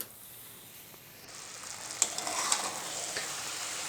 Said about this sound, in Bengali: নাড়াচাড়া করে সব কিছু মিশিয়ে নিচ্ছি